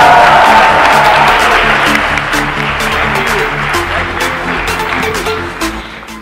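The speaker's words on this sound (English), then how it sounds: "please give a huge round of applause for Mr. Ankur Warikoo." An auditorium audience at a college event at IIT Delhi claps steadily, a dense wash of applause that stays loud throughout and fades slightly toward the end.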